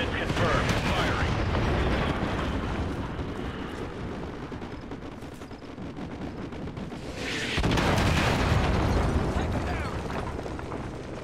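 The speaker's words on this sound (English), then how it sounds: "Fire mission received. Artillery inbound. Coordinates confirmed. Firing." Artillery strike explosions in the Call of Duty Modern Warfare 2 campaign: dense, loud rumbling blasts and bursts filling the clip, swelling again near the end, with no speech over them.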